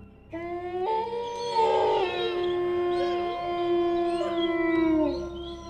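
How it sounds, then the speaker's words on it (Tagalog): Several dogs howl together in long, sustained, wavering tones that rise and overlap, fairly close and loud, with no one speaking. "nakarinig sila lola ng mga alulong ng aso"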